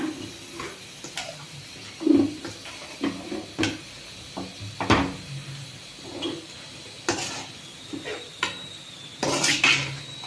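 Fried chicken is stirred in a pan: close, irregular clinks and scrapes of a utensil against metal, with a faint hiss of hot oil in between.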